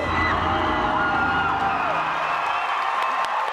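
A large crowd of about 700 cheers and whoops for a senior citizens' hip-hop dance crew at a dance competition, loud and sustained with shrill shouts over the roar the whole time.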